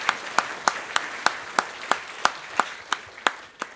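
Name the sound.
audience applause for Kirk Hammett's guitar Greeny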